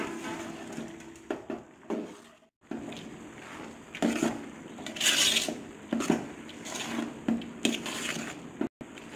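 Spoon stirring boondi into sugar syrup in a metal pot for laddu, a string of soft scraping clinks and wet squishing strokes in an irregular rhythm, close and fairly quiet, without talk.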